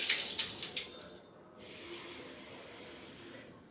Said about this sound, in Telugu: ఈ కొత్తిమీర అయితే కొంచెం కడిగేసి పక్కన పెట్టిస్తా ఎందుకంటే ఇసుక ఇట్లా ఉంటుంది కదా ఒకసారి వాటర్ పంపేసి